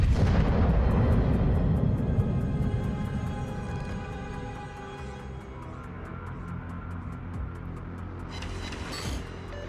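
A battleship shell from a Yamato-class Musashi explodes in World of Warships, a loud booming blast at the start that rumbles and slowly decays into a long fading tail with faint mechanical clicks.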